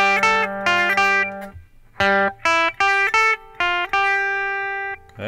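A guitar plays measure 5 of the Super Mario Bros. theme as a series of short, clean plucked notes in a bouncy rhythm, with gaps between phrases and a final longer ringing note, alone and fairly close.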